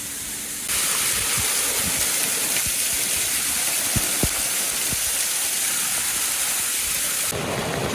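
Creek water rushes steadily near a waterfall in the Great Smoky Mountains, a dense, loud, unbroken roar with a few faint knocks, no talking.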